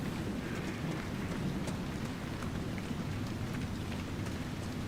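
Steady rainfall in the fantasy game Dragon Age Inquisition, a continuous low hissing downpour with a deep rumbling undertone and occasional brighter droplet ticks, even and unbroken throughout.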